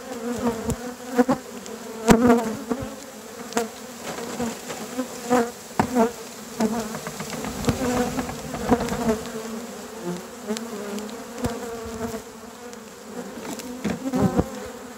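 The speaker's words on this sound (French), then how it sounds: "on a à peu près toutes les abeilles sur le dessus des cadres qui éventent les phéromones" A swarm of honeybees gathered on top of hive frames fanning pheromones buzzes continuously and close, a dense droning hum broken by occasional louder passes of bees near the microphone.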